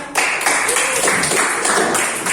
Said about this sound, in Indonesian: tepuk tangan untuk kelompok Kai.